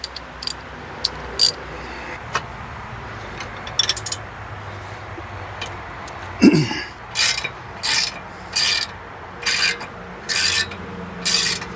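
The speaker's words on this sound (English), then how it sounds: "we got a different ratchet here" A ratchet works on a wheel bearing bolt of a 1998 Honda Odyssey, giving scattered clicks at first and then a run of regular, evenly spaced ratcheting strokes close by.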